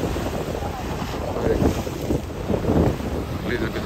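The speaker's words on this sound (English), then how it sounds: "Like, a little bit windy in the night time." Wind buffets the microphone in gusts over a low wash of sea and surf at night on the seaside in Antalya, Turkey, steady and fairly loud, with no voices.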